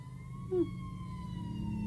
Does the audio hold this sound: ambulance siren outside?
yes